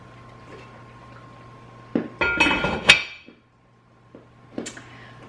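A metal lid is set onto a pot of braising chicken, giving a few clinks and a rattling clatter up close before it settles, followed by a couple of light taps.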